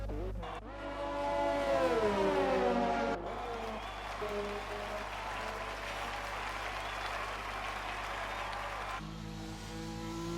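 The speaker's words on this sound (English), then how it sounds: "Why is the crowd so loud?" Constant crowd roar from the grandstands in a racing video game at the Japan round, sitting under engine drone throughout, loudest in the opening seconds and holding steady to the end.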